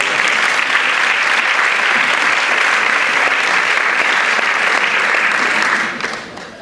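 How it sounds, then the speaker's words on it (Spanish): A crowd at a town hall anniversary ceremony in Palma del Río claps steadily and loudly for several seconds, the applause holding even before tapering off near the end. "Un aplauso."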